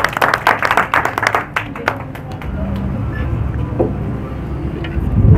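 An audience at a social welfare association gathering claps briskly for a couple of seconds, then the applause fades into low background rumble and room noise.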